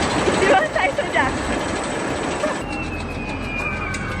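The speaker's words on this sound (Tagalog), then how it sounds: "dumiretso kami sa roller coaster nila kasi katabi lang to ng hotel nila no" A roller coaster runs at Yokohama Sea Paradise, a steady rumbling ride noise with rail squeals and a high whine later on, heard throughout at moderate level.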